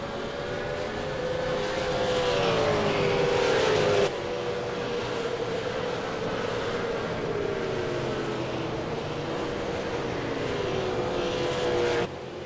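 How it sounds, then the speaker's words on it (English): A V8 Supercar engine drones loud and close at Phillip Island, climbing and dropping in pitch as it brakes and downshifts for the hairpin and accelerates away. A sharp gear change cuts in near the end. "This hairpin is so difficult to brake for in the V8 Supercar."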